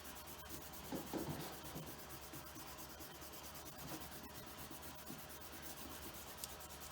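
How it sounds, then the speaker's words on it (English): An eraser rubs pencil lines off drawing paper with a soft, close, continuous scratchy scrubbing, faint and steady throughout. "So I'm going to take my eraser and erase all of the pencil lines that didn't get covered by the marker."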